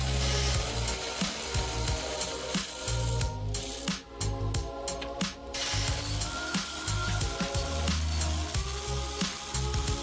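Two 13mm bolts on the top battery bracket of a 2021–2023 Cadillac Escalade are backed out, with a steady clicking ratchet and metallic tool noise running through the whole stretch, close and moderately loud.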